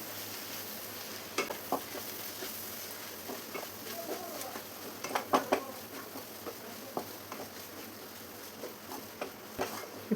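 Onions mixed with Kashmiri chili powder in a frying pan, spattering and hissing under repeated scraping and knocking strokes of a spoon, a busy uneven rhythm of clatters over a low continuous sizzle.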